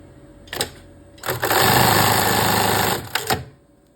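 A sewing machine stitches a seam to attach a ring and strap on adjustable panties. A couple of quick taps come first, then a loud, steady run of about two seconds, followed by a few short closing stitches.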